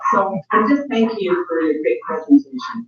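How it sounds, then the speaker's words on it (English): A pet dog barks at home during an online meeting, its barks mixed in with a person speaking steadily in the foreground. "oops, that's my dog"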